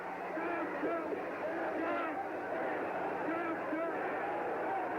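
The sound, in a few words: boxing crowd cheering at Ali vs Foreman fight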